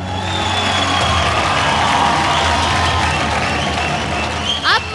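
Loud audience applause at a televised district-level singing talent competition on stage, a dense continuous roar of clapping and crowd noise sustained throughout, with voices mixed in.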